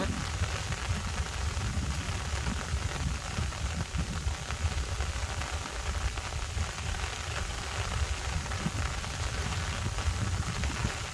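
Steady heavy rain pours down with gusting wind over rice paddies during planting in a storm, a dense continuous hiss with no break.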